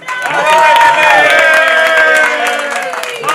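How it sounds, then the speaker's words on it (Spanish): Loud audience clapping and cheering for a performer at a live show, a dense crowd sound that swells quickly and holds, with voices calling out over it. "un aplauso para Pixelín, que está aquí"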